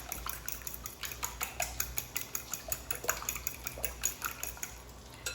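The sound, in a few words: eggs being mixed in a bowl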